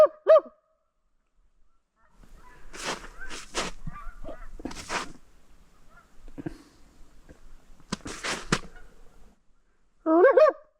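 Wild geese honking outdoors at a solo wilderness camp, a few loud nasal calls at the start and end with scattered fainter honks between, somewhat distant and unaccompanied by talk.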